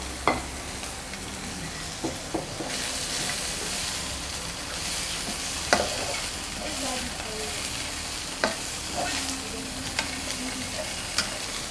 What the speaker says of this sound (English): I'm just going to add my onions into the mix and let it just brown